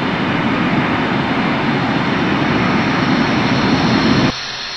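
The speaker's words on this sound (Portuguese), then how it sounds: "ele decola do aeroporto de Brinic" An airliner takes off from Brnik airport, its jet engines a loud, dense, continuous roar that holds steady for several seconds before cutting off abruptly near the end.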